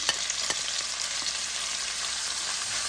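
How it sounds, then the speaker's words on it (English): Bacon browns in a pan over medium heat, giving a continuous, close, crackling sizzle with a few small pops and no voices. "Now in the same pan, I'm going to brown the bacon."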